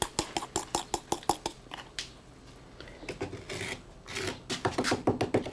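Schist pigment being ground in a coffee mill, giving a series of sharp, rhythmic rasping and clattering bursts that settle into a steadier grinding rattle, close and fairly loud, with no voices.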